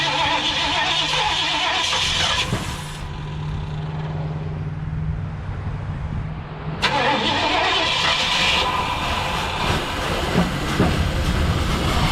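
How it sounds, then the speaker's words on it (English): A rebuilt Ford 289 V8 in a 1967 Ford Galaxie 500 running during break-in, giving a loud, continuous rumbling drone that dips to a lower, smoother idle partway through before revving back up. "we got the 289 running."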